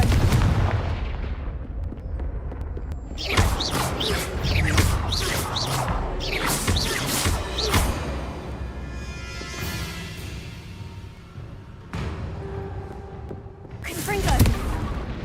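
Confringo fire spell blasts in the Hogwarts Legacy video game, heard as a rapid series of sharp booming bursts and crashes over a rumbling game soundscape, close and loud.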